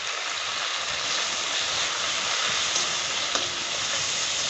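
Tilapia pieces with chili powder, turmeric and salt sautéing in oil in a pan, giving a steady, close, continuous sizzle with faint stirring scrapes and no talking.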